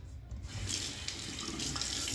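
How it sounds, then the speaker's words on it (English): A bathroom faucet runs cold water into a sink nearby, a steady splashing rush with slight shifts in the flow and no voices. "Gotta remember this faucet up here."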